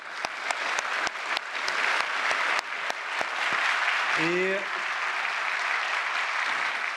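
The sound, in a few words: audience applause at a ceremony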